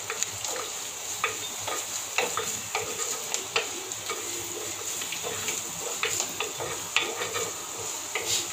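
Steady frying sizzle of ginger in a pan for fish curry, with scattered stirring clicks and scrapes, close and continuous, no talking.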